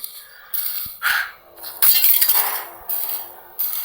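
Glass breaks and clinks in the video game Hello Neighbor 2, several bright shattering bursts in quick succession with short gaps between.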